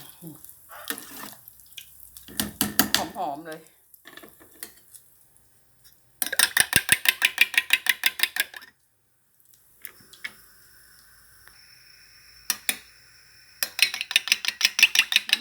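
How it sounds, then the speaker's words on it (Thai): A fork beats eggs in a bowl for a fluffy Thai omelette fried in pork lard, giving bursts of rapid rhythmic clicking strokes separated by quiet pauses. "ตีให้นานๆหน่อย ไข่จะได้ฟู"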